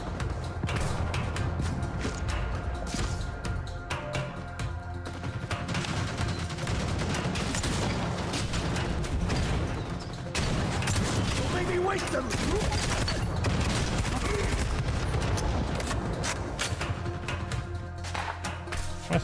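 Continuous heavy gunfire in Necromunda: Hired Gun rattles at close range for the whole stretch, dense machine-gun bursts and shots piling over each other, with a voice talking intermittently underneath.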